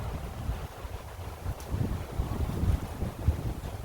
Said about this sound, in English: kind of windy out today, so sorry about the audio if the phone picks that up